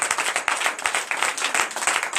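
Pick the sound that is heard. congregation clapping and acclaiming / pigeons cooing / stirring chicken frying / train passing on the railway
congregation clapping and acclaiming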